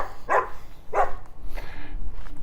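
A dog barks in an alley, two sharp woofs about half a second apart followed by a softer third, heard outdoors at moderate distance over steady street background.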